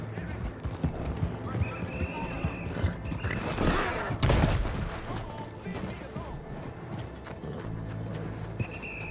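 A horse galloping in the video game Red Dead Redemption 2, with steady clip-clop hoofbeats and an occasional whinny under game ambience, distant gunfire and a person talking.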